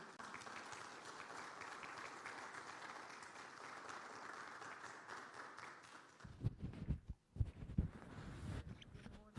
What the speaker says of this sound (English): give her a hand clap as she comes to the stage, Ms. Wendy Satora Link.